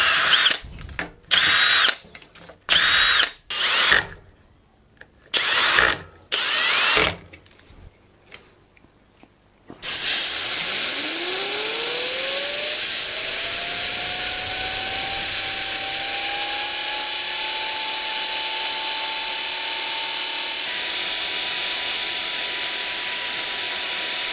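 A 12 volt motor spins a 3D printed resin turbine: a few short bursts first, then a loud steady high whine that rises in pitch as it spins up and holds, close and continuous.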